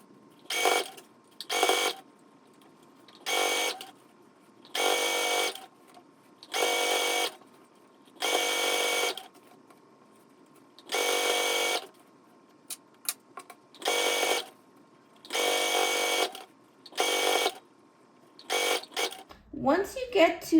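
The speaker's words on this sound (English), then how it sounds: "you're going to sew on top of the folded part that is on the other side of the skirt" Sewing machine stitching along the folded waistband of a pencil skirt, running in repeated bursts of a second or so with short pauses between, close and clear.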